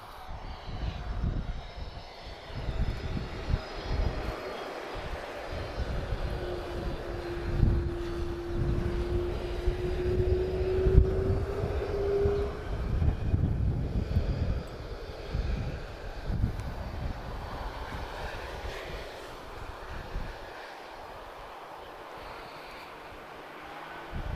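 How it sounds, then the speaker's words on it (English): A first-generation Airbus A330 jet airliner at Lisbon Airport passes with a broad, steady engine roar and a rising whine, swelling and then slowly fading into the distance; no voices. "this is a first generation A330"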